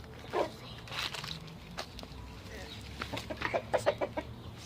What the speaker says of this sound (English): So here, there are more chickens.